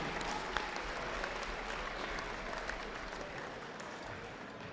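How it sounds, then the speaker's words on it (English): Sustained crowd applause fills a school gym for the line judges at a Section 8AA high school volleyball playoff match, a dense, steady patter of clapping heard from within the stands with no voices on top. "How about a nice round of applause"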